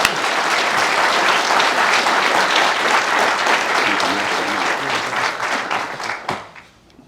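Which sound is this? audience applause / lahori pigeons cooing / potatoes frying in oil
audience applause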